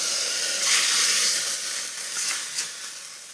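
Hot onion tempering poured into a pot of jackfruit erissery curry, a loud close hissing sizzle that swells then gradually fades, with no talking.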